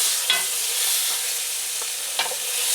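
A roast sears in hot butter and oil in a pan, giving a steady bright hiss with two brief louder crackles as the meat is turned, no talking.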